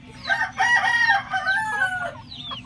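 A young chicken of about three months on a small farm crows in a strained, wavering call, loud and near, with a few softer clucks trailing off at the end.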